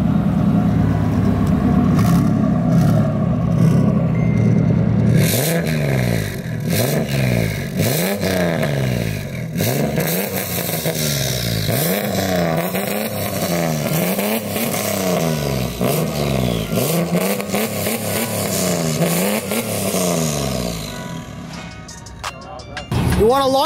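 A rear-mount turbo Ford Ranger time-attack truck revs and accelerates loudly up close, its engine note rising and falling in repeated sweeping pulls with a steady heavy drone underneath.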